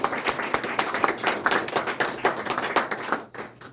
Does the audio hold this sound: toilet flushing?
no